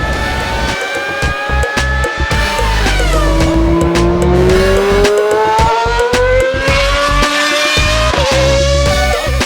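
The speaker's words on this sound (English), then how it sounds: "hearing the noises of the engines while the Formula One cars pass by" Formula One race cars scream past a grandstand at speed, their loud, high-pitched engine notes rising and falling in Doppler sweeps as several cars pass in quick succession.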